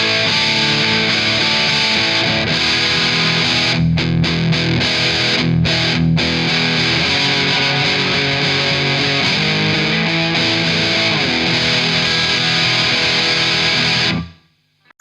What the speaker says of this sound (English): it's got that sort of classic distortion sound